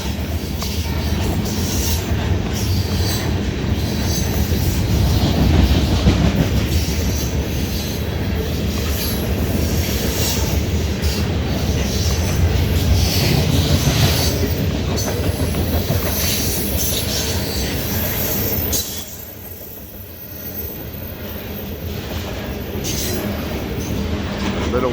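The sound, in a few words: CSX eastbound ethanol freight train passing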